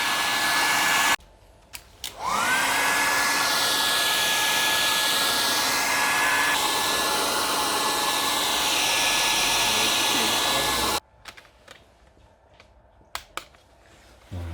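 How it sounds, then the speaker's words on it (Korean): A hair dryer blows steadily and loudly for about nine seconds to heat the double-sided tape holding the screen of a Lenovo IdeaPad Gaming 3 15ARH7 laptop during a screen replacement. Short knocks and handling noises come before and after. "드라이기로 열을 전체적으로 가해준 다음에 탈거를 하면 돼요"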